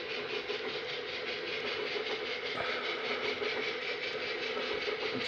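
A model B&O EM-1 locomotive hauls a freight consist around a layout, producing a steady close whirring motor drone with rhythmic clicking of wheels over rail joints and no talk.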